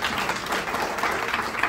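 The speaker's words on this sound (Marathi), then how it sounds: "एका टीम साठी जोरदार टाळ्या." An audience at a motivational speech event claps together in a brief burst of steady, dense applause that fills the room without a break.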